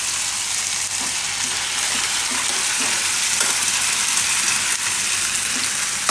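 Onion paste fries in hot oil in a pan, giving a loud, continuous sizzle and crackle, with faint stirring scrapes running underneath.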